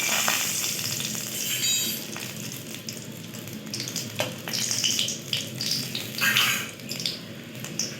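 Whole garam masala spices, cardamom, cinnamon and bay leaves, fry in ghee in a wok with a dense, continuous sizzle and crackle, swelling with occasional stirring scrapes and sputters; no talking.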